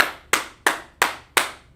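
Five crisp, evenly spaced hand claps, loud and close, each sharp strike decaying quickly, performed in a classroom setting with no voices over them.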